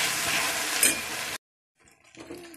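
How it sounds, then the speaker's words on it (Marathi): Ginger garlic paste cooking in oil, a close bright sizzle with a brief spike of spattering, then an abrupt cut to near silence before a fainter frying hiss returns. "याला मस्त छान पैकी छान शिजू द्यायचं तेलामध्ये अद्रक लसणाच्या पेस्टला"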